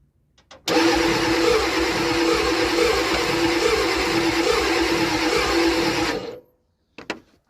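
A Ford F-250 with a 7.3-liter diesel engine cranks on a newly replaced starter, whirring loudly and steadily with rhythmic pulsing for about five and a half seconds without catching, then stops abruptly before a brief short click.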